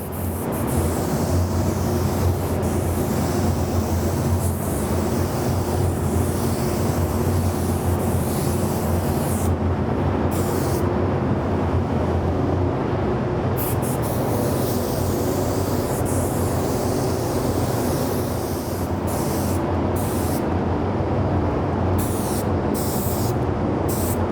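A steady, continuous hiss of spray painting a Boba Fett helmet runs throughout, loud and close, with brief dips where the spray pauses for a moment.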